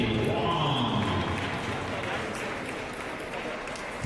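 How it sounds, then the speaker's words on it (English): A crowd applauds table tennis champions at a finals event, steady dense clapping filling the hall, with a voice talking over it. "So a warm round of applause."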